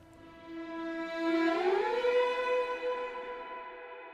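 Orchestral strings sustain a long interval of a perfect fifth, a single held chord that swells, bends upward around the middle and then settles into a steady, resonant tone, alone without voices.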